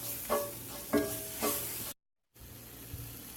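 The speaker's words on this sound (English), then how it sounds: "We're going to stir that in until it thickens up." Milk is stirred into a flour and tomato sauce in a pan: three soft scraping strokes over a faint sizzle, then a brief silence before a quiet simmer resumes.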